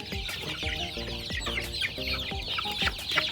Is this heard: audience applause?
no